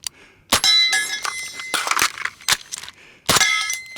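Sharp metallic clacks and clattering ring out up close as the magazine is released with the mag paddle on an MCX-Spear LT rifle in 300 BLK, several distinct hits with short gaps between them.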